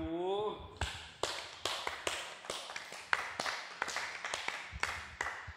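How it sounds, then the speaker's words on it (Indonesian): An audience claps in separate, uneven sharp slaps, one after another at a brisk rhythm, fairly close, following a brief voice at the start. "tepuk tangan dulu"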